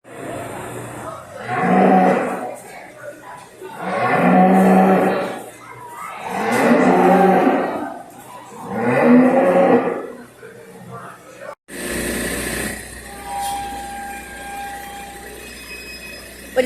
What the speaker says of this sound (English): 500 cows altogether, including mamas and babies. But 300 they milk.